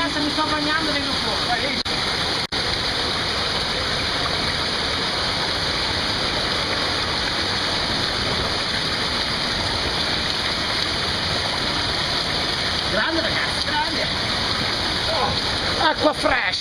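Water pours down steadily inside the Corchia cave, a loud, constant rushing splash filling the entire stretch, with a few brief voices breaking through near the end.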